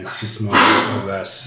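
A dog with a heart problem coughs and hacks in the background while a person keeps talking over it in the foreground.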